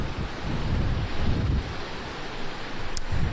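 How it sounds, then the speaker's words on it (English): Strong gusting wind roars outdoors on a residential street in Kennewick, a loud broadband rush with low rumbling buffets against the microphone, steady throughout with slight surges and no voices. "It is still super windy outside."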